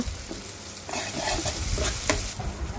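Onion and tomato masala with salt, turmeric and chili powder fries in a pan. A steady, close sizzle runs with scraping stirring strokes throughout, and no voices can be heard.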